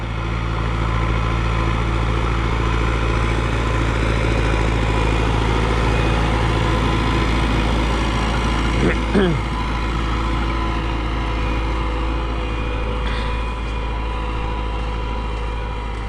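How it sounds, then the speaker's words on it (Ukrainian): Tractor engine running steadily during field cultivation for corn, heard from inside the cab as a constant low drone with a faint brief squeak partway through, and a voice talking in the cab at times. "Дивіться, спускається трактор згори."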